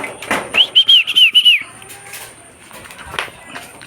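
Young pigeons being trained, a short series of high, whistly chirping calls in quick succession near the start, followed by quieter rustling, soft voices and faint background noise.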